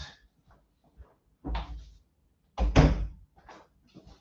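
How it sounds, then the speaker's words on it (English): A door swings shut with a couple of soft thuds and then a louder closing thunk, heard close in a quiet indoor room with small handling knocks around them. "let me shut the door"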